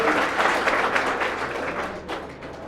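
An audience at a cultural programme and valedictory function applauds after a performance, a dense burst of clapping that gradually thins and softens toward the end.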